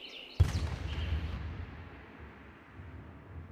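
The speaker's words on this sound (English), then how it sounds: "Arnold hears a cannon fire." A single cannon fires with one sharp, heavy boom, and its deep rumble rolls away and fades over the next few seconds.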